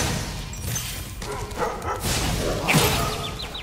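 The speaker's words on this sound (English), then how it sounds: "Kill these dogs." Dogs bark in quick yapping bursts in Spyro Reignited Trilogy, loud and close over a dense game soundscape with fire-breath whooshes and chiming effects.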